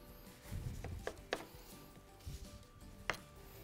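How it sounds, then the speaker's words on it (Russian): A knife cuts a maki sushi roll into eight pieces on a board: a few quiet, soft chopping taps spaced unevenly against a low, muffled kitchen background. "теперь мы нарезаем на 8 кусков"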